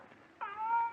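In a radio drama, a cat gives one sudden, drawn-out yowl of pain after its tail is stepped on, close and clear with a faint background.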